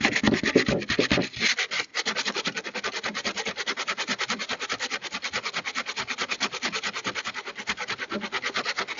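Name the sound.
sanding a damaged car bumper cover with sandpaper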